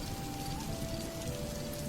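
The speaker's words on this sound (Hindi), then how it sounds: "अभी तो इतनी तेज बारिश हो रही थी" Heavy rain falls in a forest at night, a dense, steady hiss of countless drops with a faint tonal whine running underneath throughout.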